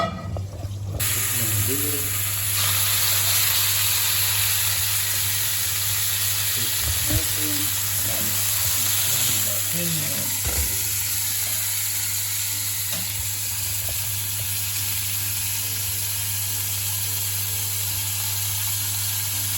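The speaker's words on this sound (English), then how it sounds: "the oil smoking in the pan" Hot oil in a pan heating inside a wood-fired oven, giving a steady sizzling hiss with a constant low hum beneath and a few faint clinks. A voice talks over it in the first half.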